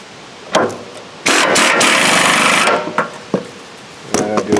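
A power impact wrench bursts into a sustained loud rattling whir for about a second and a half while tightening a nut on a snowblower engine, framed by shorter clunks and knocks of tools close by.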